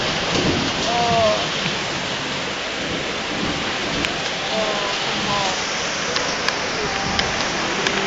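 Steady rain pours down during a storm, a dense continuous hiss filling the whole stretch, with brief faint voices and chirps rising above it.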